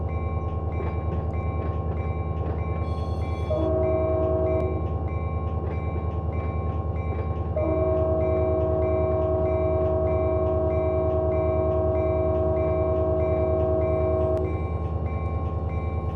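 Heavy loaded BNSF freight train in the Run 8 train simulator game rumbles with a steady diesel drone, while the horn sounds a short blast and then one long sustained blast, close and loud without talk.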